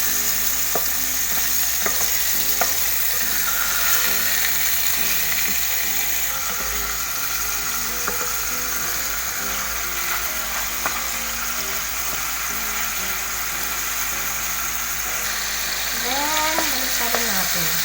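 Sliced pork leg for sinigang sizzles and spits in a hot pan, a dense, constant frying crackle with occasional scrapes and clinks of stirring, recorded close with faint voices briefly in the background.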